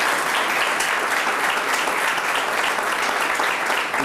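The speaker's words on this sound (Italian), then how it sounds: "L'applauso" A TV studio audience applauds to welcome the prefect of Catanzaro: dense, steady clapping from many hands, loud and sustained without a break.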